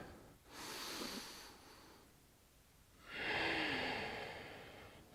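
A deep breath taken during a yoga back-bend stretch, two soft airy breaths a few seconds apart, the second a long, fuller exhale, close and quiet with no talking.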